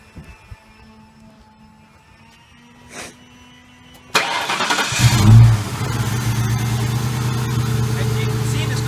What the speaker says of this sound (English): Now what I'm going to do for you is I'm going to start up this car.